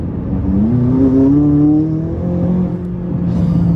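A tuned 664 hp McLaren 570S with turbos pulls hard under acceleration, its engine note climbing steadily in pitch, loud and close, with a sustained throaty drone and no talk over it.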